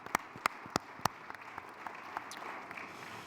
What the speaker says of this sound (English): Round of applause for our sponsors today.